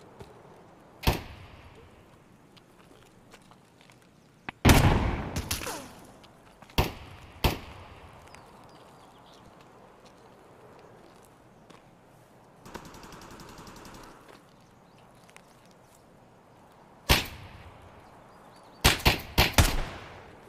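Gunfire from an unidentified gun in a shooter game: isolated sharp single shots spaced across a quiet background, with a rapid cluster of cracks near the end, moderately loud against faint ambience.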